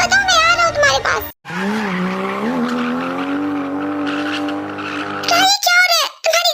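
Car tyres skidding, a long, loud screech with a rising, wavering pitch that lasts several seconds, with voices talking just before and after it.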